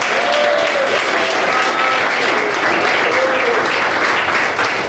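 A church congregation claps together in sustained, even applause, loud and close, with a few faint voices calling out over the clapping.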